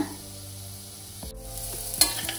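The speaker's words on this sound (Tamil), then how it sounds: "பார்த்தீங்கன்னா வெங்காயம் வந்து நல்லா வதங்கிடுச்சு" Onions sautéing in a pan for a paneer pepper fry, a soft steady sizzle broken by a few scraping stirs of a spatula, close and moderately loud, with no voices.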